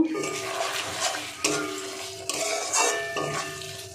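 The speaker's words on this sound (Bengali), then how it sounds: "এবার আমি একটু মিশিয়ে দেব।" Prawn pickle and its oil being stirred in a pan, with repeated scraping and clinking of a utensil against metal, heard close over steady background music with no talking.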